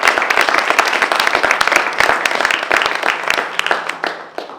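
Loud, close applause for a DJ from an audience at a talk, with sharp individual claps standing out in a brisk, dense patter that thins and fades toward the end.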